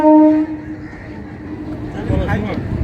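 A train rolling past a riverside ghat on the Hooghly near Bagbazar, a low steady rumble that builds toward the end, with people talking over it throughout.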